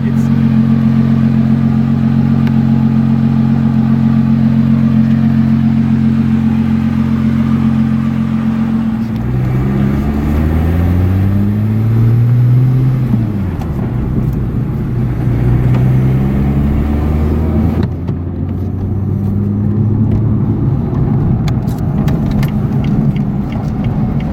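Lotus Evora S sports car with a manual transmission, a loud steady engine drone that climbs through rising revs, drops at gear changes and builds again, close and continuous.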